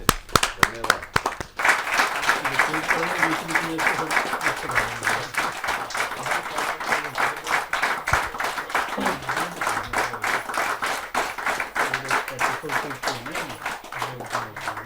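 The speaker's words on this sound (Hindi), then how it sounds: "जोरदार तालियों के साथ हम स्वागत करें" A crowd at a Hindi kavi sammelan poetry gathering claps steadily to welcome a poet, with dense, sustained applause running nearly the whole stretch after a few sharp opening claps.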